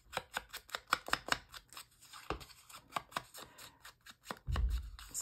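Scissors snip paper repeatedly in quick, crisp cuts, quiet and close, with a few pauses and a brief rustle near the end.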